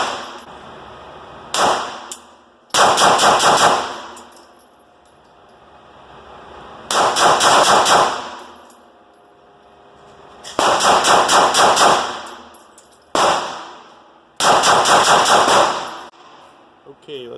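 Sig Sauer P320 pistol fitted with a compensator fires on an outdoor range: sharp, loud shots in separate bursts and singles, each followed by a ringing echo and quiet gaps between strings.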